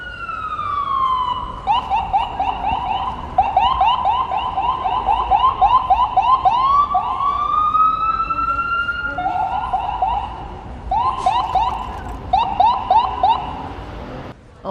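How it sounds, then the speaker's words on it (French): An emergency vehicle siren on a Harlem street sounds in short, choppy bursts and rising wails, loud and close, with brief pauses between clusters of rapid yelps. "En fait, la sirène, c'est un bruit continu, enfin voilà, on le connaît. Mais là, c'est des petites saccades."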